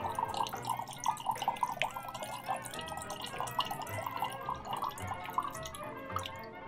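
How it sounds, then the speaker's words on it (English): Sunset Rose cocktail poured straight up into a glass, a steady splashing, trickling stream of liquid lasting several seconds, close and moderately quiet, without speech. "And pouring your drink straight up."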